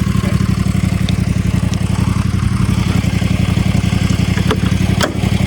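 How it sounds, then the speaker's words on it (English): A homemade racing lawn mower's engine runs loud and close, a steady rapid low-pitched chugging that holds throughout, with a couple of brief clicks near the end. "I'm gonna get my engine started though."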